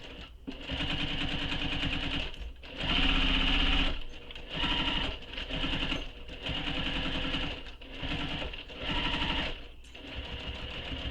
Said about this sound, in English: you're going to sew this with the seam allowance given in the pattern